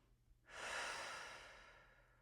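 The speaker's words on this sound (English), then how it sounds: "So I want you to take a deep breath" One slow, deep breath, drawn in and let out softly and close, a breathy rush that swells quickly and then fades gradually in a quiet room, with no talk over it.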